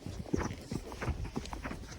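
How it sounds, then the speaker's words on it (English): Hooves clip-clop at an uneven walking pace, close by, with a soft background rustle. "You are honestly the worst horse for tripping, Corporal."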